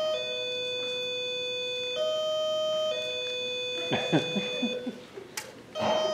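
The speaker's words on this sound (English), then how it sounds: "What's that? Sounds like a bell." A sustained electronic multi-tone doorbell chime changing pitch every second or so, loud and near, in a seniors' stage play, followed by clattering and voices near the end.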